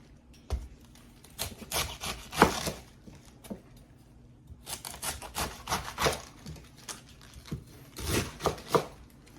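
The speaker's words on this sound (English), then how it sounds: "I'm going to start just kind of chopping this" A knife chops through a head of cabbage for sauerkraut in bursts of quick, crisp cuts on a board, separated by short pauses, close and fairly quiet.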